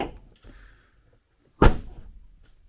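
A Cadillac CTS car door swings shut and latches with one solid thunk after a few faint handling noises and a pause.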